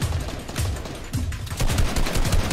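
Rapid bursts of video game gunfire during a tournament match: dense, repeated shots that crackle and build in loudness, with no talking over them.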